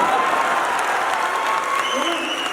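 A live stage audience claps in a thick, sustained round of applause that stays loud and steady throughout, with a voice faintly heard over the clapping near the end.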